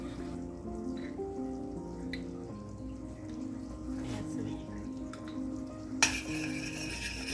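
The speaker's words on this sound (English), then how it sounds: "I'm going to get this all stirred up and let it simmer for about 5 to 7 minutes" Hoisin glaze sauce being stirred and left to simmer in a pan, with faint scraping and soft bubbling in the background, a brief sharp clatter near the end, and a person talking quietly over it.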